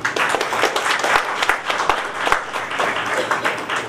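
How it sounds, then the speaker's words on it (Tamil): Applause from the audience at a Tamil film's success meet, dense steady clapping throughout with individual sharp claps standing out near the front. "தயவுசெய்து எனக்காக உங்களுக்கு ஒரு கைத்தட்டுங்க."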